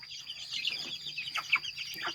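Two-month-old young chickens on a Thai farm cluck and chirp in a quick, uneven series of soft calls, fairly close, with no voices over them.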